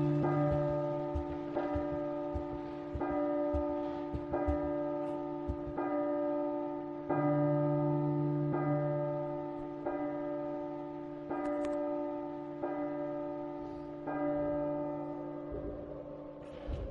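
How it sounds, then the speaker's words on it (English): Church bells tolling at midnight in a horror audio drama, a dozen or so loud, evenly spaced ringing strikes roughly every second and a half, each ringing on with a long hum, a deeper bell sounding twice between them. "while the clock struck midnight, the bells tolled"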